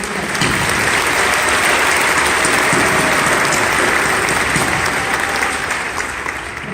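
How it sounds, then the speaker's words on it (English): A graduation ceremony crowd claps in sustained, dense applause, loud and steady throughout, tapering only slightly at the end. "let's give them one more round of applause."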